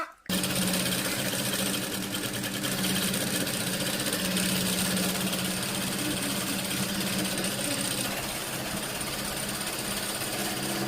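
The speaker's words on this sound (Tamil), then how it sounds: "மடிச்சு தைக்க வேண்டியதுதான்" A sewing machine stitches folded fabric in a steady, loud, continuous mechanical whir that starts abruptly and runs without a break.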